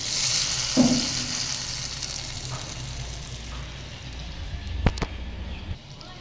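Spice tempering (phoron) sizzles into a thickened vegetable curry in a pan, a steady close frying hiss with a brief splutter near the start and a sharp clatter toward the end; no one talks.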